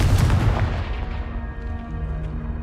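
The Confringo blast spell in the video game Hogwarts Legacy lands as one loud, booming explosion right at the start and then rumbles away into a fading tail.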